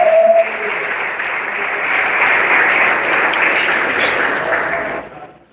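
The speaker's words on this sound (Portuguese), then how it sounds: "Você pode aplaudir o Senhor Jesus, você pode aplaudir a Ele." Sustained applause from a church congregation, steady and full for several seconds before tapering off, with a brief tone at the start.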